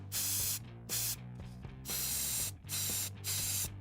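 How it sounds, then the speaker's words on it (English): A spray paint can hisses against a wall in five sharp bursts separated by brief pauses, with a low hum running underneath. "have you ever spray painted a wall before?"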